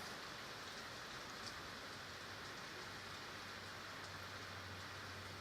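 Steady proper rain falling outdoors, a dense even hiss of drops on surfaces that holds at one level throughout, with no voices.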